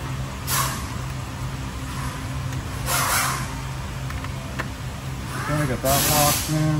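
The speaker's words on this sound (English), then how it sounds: "Silicone spray." Silicone spray being applied during a 2023 VW Taos head gasket install, short hissing bursts repeated three times, close, with engine bay clatter and light handling noises between them.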